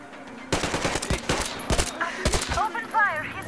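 Rapid bursts of gunfire in Metro Exodus, a run of sharp shots starting after half a second and continuing with brief gaps, close and loud, with shouting voices over the later part.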